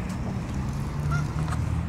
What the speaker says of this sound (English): so those are geese crossing the street down here on the middle of the street